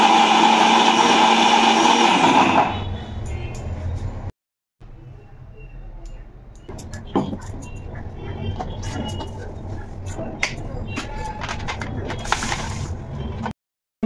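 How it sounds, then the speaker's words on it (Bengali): A new mixer grinder whirs loudly while grinding green peas, a dense steady motor roar for under three seconds that cuts off abruptly, followed by quieter kitchen clatter and background sounds. "আজকে নতুন মিক্সিং গ্রাইন্ডার উদ্বোধন"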